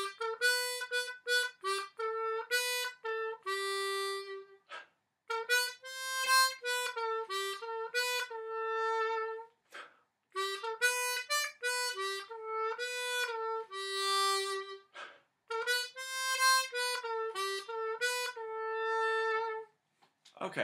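Harmonica in C plays the verse melody of a pop song, a run of bright, sustained reedy notes and short phrases with brief breaths between them. It is close and clear, with nothing else behind it.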